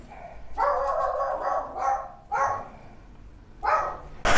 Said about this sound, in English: My dog just went crazy